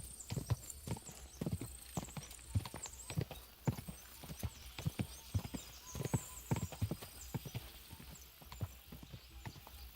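Horse hooves gallop in the medieval game Kingdom Come: Deliverance, a rapid, steady clip-clop of strikes close up that runs throughout, joined now and then by a brief whinny.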